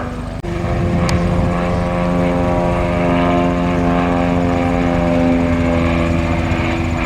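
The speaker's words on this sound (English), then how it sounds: "The SPAD, the only airplane left in the sky." A World War I propeller airplane, a SPAD VII, drones loudly and steadily nearby during an air show dogfight at Old Rhinebeck Aerodrome, its engine buzz sustained throughout with a brief click near the start.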